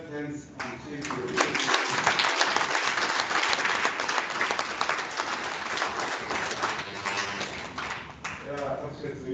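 A crowd at a university biosphere anniversary celebration breaks into applause, a steady mass of clapping that swells and then eases, with a speaker's voice heard at the start and again near the end.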